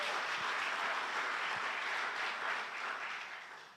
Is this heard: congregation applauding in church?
yes